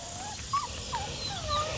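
A black female puppy gives several soft, high whimpers in quick succession, faint and close, over a quiet background with no voices.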